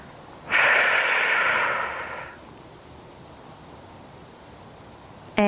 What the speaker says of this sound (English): Big deep breaths, really big deep breaths here.